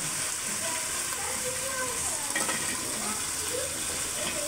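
Jackfruit goes into a cooked spice paste in hot oil, giving a steady, close sizzle with light stirring and scraping, for a jackfruit and chickpea dal dish.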